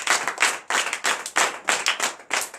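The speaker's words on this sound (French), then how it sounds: "Donnez l'acclamation à notre Seigneur." Churchgoers at a night deliverance and prophecy service clap in rhythmic unison, loud, close bursts in a regular beat of sharp, synchronized strokes repeating about every half second, with no talking over them.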